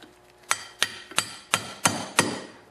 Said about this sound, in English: I'm just going to tap it on the outer edge of the bearings only